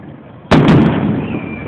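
July 4th fireworks explode across the street, two sharp loud bangs in quick succession followed by a fading rumble against a quiet outdoor background.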